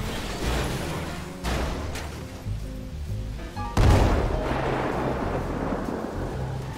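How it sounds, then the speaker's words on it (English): A large explosion goes off in GTA 5 with a deep, loud boom near the end that rolls into a sustained rumble, heard over a busy game soundscape with steady background music. "Or a large explosion."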